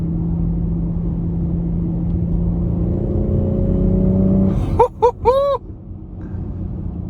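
A 2019 BMW X3 M40i SUV engine hums steadily under acceleration, its drone rising in pitch, then a quick burst of sharp exhaust pops and crackles rings out close and loud before the engine settles.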